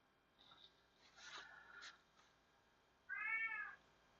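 A Siamese cat meows softly in a quiet room, a few faint chirps and mews and then one clearer, louder drawn-out meow near the end.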